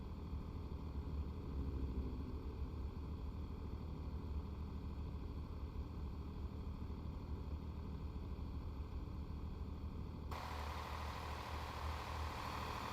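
A truck engine in Euro Truck Simulator drones loudly and steadily, a low continuous rumble with a constant idling tone that shifts slightly near the end, heard alone.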